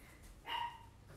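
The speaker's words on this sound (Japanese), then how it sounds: "吠えてる" A dog gives one short, faint bark in the distance, set against an otherwise quiet indoor background.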